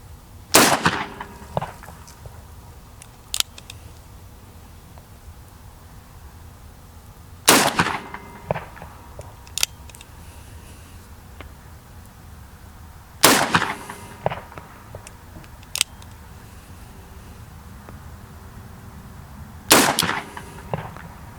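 A revolver fires single-action shots at a downrange target, four sharp loud cracks spaced several seconds apart, each followed by a short echo and small handling clicks between them, with no talking.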